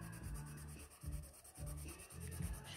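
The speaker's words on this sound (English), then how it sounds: "use the side of your pencil lead and do a rubbing" The side of a pencil lead is rubbed across paper laid over a leaf, making steady rhythmic scratchy strokes that repeat roughly every half second, close and fairly quiet, with no voices.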